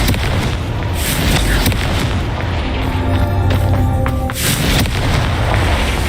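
Confringo blasting spell explosions in the Hogwarts Legacy video game, loud booming bursts with crackling, fiery noise filling the whole stretch, a couple of heavier blasts standing out near the start and end.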